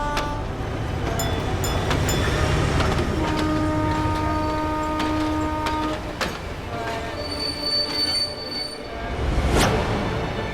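Train wheels squeal loudly with sustained, shifting high-pitched tones over the deep rumble of a passing train, swelling again near the end.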